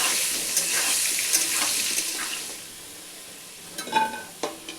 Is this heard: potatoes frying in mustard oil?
yes